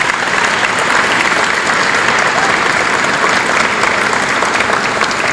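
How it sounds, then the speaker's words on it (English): Loud, dense applause from an awards gala audience at a 2017 Business Excellence Awards evening, a continuous wash of many hands clapping close by for several seconds without letting up. "So a big round of applause for all our sponsors."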